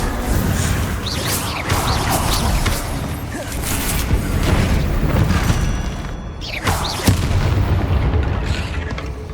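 Bombarda spells bursting in Hogwarts Legacy, a dense, loud wash of booming blasts and crashing debris that rolls on almost without pause, with swooshing magical casts layered on top.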